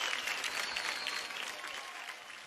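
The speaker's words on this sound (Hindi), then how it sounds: "एक बार जोरदार तालियां हो जाए जया प्रदा जी के लिए।" A studio audience on the Indian Idol 12 singing show bursts into brief, dense applause, a steady wash of many hands clapping together.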